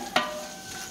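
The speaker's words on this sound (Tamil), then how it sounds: "போட்டு நல்லா மிக்ஸ் பண்ணிக்கலாம்" Masala with ginger-garlic paste being stirred in a pan for chicken biryani, a single close scraping stir with a soft sizzle that fades into a quiet frying hiss.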